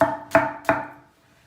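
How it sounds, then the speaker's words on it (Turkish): Three sharp, evenly spaced knife chops hit a cutting board while onions are cut into fairly large pieces for a home-cooked dish, close and crisp, with a brief ring after each stroke. "Soğanları fazla ufak doğramayacağız."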